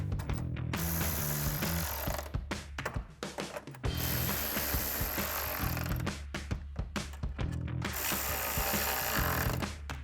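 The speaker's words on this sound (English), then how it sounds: "take a 10mm socket and tighten those down" A ratchet with a 10mm socket tightens grille bolts on a RAM 1500 pickup, giving steady mechanical clicking and clattering, close and fairly loud, with a few brief pauses and no talking.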